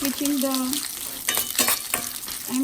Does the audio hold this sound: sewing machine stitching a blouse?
no